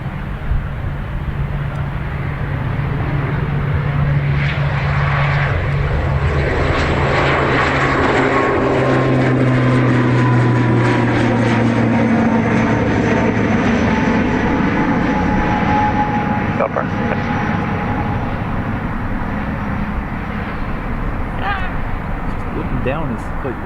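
Emerald Airlines aircraft operating for Aer Lingus at Dublin Airport, engines droning loud and steady with a rising and falling whine as it moves near the runway, while someone talks throughout.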